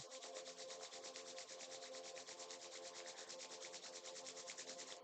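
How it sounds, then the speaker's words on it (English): Palms rubbed briskly together during a yoga session to warm them, giving a continuous, even, rhythmic swishing friction sound, close and soft, with no voices. "Rub the palms against each other, generate urja, make them warm."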